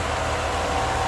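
A 1989 Cadillac Eldorado V8 idles in a clean engine bay, giving a brief, steady, even rumble with a low mechanical hum, heard close and alone.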